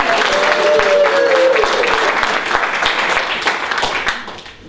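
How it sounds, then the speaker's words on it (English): A room full of people at a magic lecture claps steadily together, dense applause that thins and fades in the last second. "Please, a big magic clap for our envelope selectees"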